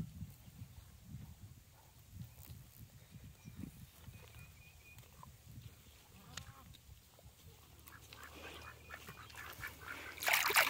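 Ducks quack on a farm pond, faint and scattered at a distance over low outdoor rumble, growing a little busier toward the end.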